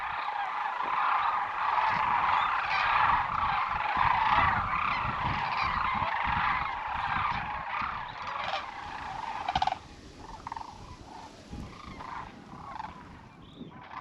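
A large flock of migrating sandhill cranes calling at Whitewater Draw Wildlife Area in Arizona, a dense, continuous chorus of rattling bugles that thins out in the last few seconds.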